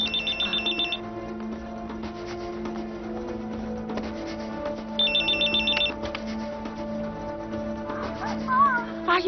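A telephone rings in a film scene, two bursts of electronic trilling separated by a pause, over a steady music score, with a brief high chirp near the end.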